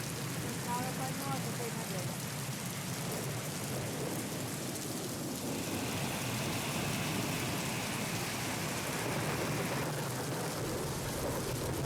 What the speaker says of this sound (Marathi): या पावसामुळे ओढे नाले अगदी दुथडी भरून वाहू लागलेत.